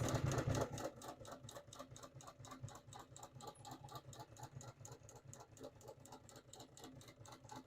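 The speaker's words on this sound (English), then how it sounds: "I'm just freehanding under the machine with the hand crank for this." A hand-crank sewing machine stitches freehand, its needle thumping in a fast, even rhythmic clatter that continues throughout at moderate volume, slightly louder at the start.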